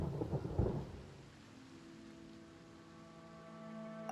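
A thunderstorm in Genshin Impact opens with a loud, low rumbling thunderclap, then settles into a steady wash of rain beneath sustained tonal music.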